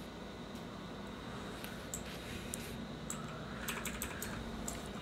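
Computer keyboard keys clatter in rapid, irregular bursts while Dead Space 3 is played in co-op, close and crisp over a steady low background hum.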